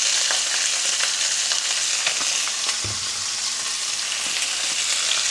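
Salmon fries in a mix of oil and butter with a close, continuous crackling sizzle, a few soft pan knocks and a brief low clunk partway through.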